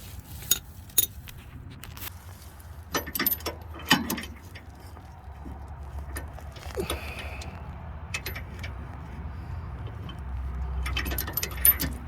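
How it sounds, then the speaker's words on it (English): Socket wrench ratcheting on the bottom bolt of a rear stabilizer bar link during a bushing replacement, giving a run of sharp metallic clicks and clinks with tool handling, moderately close and without talk. "I'm going to come back with a socket wrench and do the bottom bolt"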